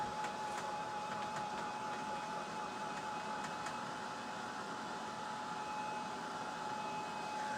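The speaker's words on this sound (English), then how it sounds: "we're just going to give this a good dry real quick with our dry tool" A handheld drying tool blows a steady, even whoosh of hot air over fresh ink on a printed grilling apron, constant and close, with a faint high whine running through it and no talking.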